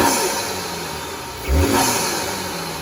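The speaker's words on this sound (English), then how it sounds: "Gonna show you what the intake sounds like." An MK6 Jetta fitted with a CTS Turbo cold air intake revs once in a short, loud surge over a steady engine hum, with an airy rush from the intake.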